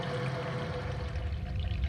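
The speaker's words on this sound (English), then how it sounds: "Calcium chloride into the mash water" Calcium chloride is poured into mash water for a 40-litre homebrew ale batch: a short, steady liquid splash and trickle, close and continuous, with no voices.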